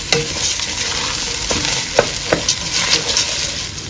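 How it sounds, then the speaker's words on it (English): Uncooked rice tipped into a hot pot for waakye and stirred, giving scraping, rustling stir strokes with a few sharp clinks and a light steady sizzle throughout, close and fairly loud with no talking. "I'll go ahead and add my rice."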